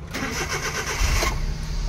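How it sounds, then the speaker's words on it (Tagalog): A Suzuki DA63T truck's engine is cranked and catches, turning over with a steady mechanical churn and a brief low surge as it fires, close by with no talking. "Ignition on. Ayan, engine start."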